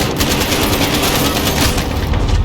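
Dense, rapid gunfire in Call of Duty: Modern Warfare hardcore multiplayer, loud continuous bursts of automatic weapons overlapping with no pause.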